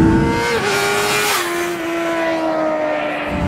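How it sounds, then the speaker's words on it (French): A motorcycle on a race track holds a loud engine tone close by, with the rider cutting the throttle and upshifting so the pitch steps down twice while riding at speed. "On coupe franchement les gaz et on passe ces rapports."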